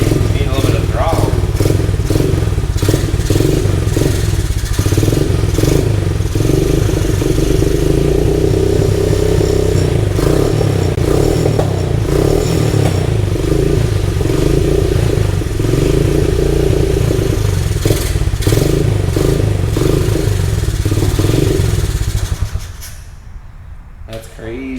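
A 21-year-old Honda XR50 dirt bike engine starts and idles roughly, a loud and steady low chug with uneven revs and clattering. It runs close by under talk for about 22 seconds, then cuts out.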